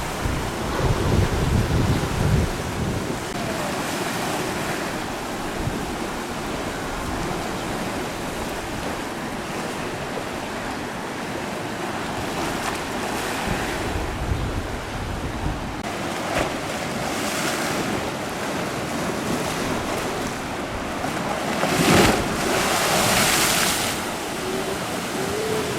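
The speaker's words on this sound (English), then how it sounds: "Every now and again we get a really big wave." Sea waves break and wash onto a rocky shoreline along the Mallorca coast between Palmanova and Son Caliu in winter, with continuous surf, wind buffeting the microphone, and a couple of bigger surges swelling louder near the start and end.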